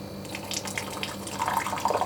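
Cold water running from the tap of a Wonder Water dispensing unit, a continuous splashing stream with a faint hiss that grows a little louder toward the end.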